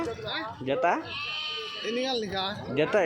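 Sheep and lambs bleat repeatedly in wavering, nasal calls, with people talking nearby at a busy outdoor sheep and goat market in Galiveedu.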